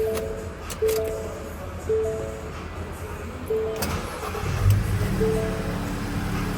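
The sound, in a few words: Ford Transit van engine starting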